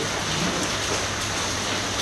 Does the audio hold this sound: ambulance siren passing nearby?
no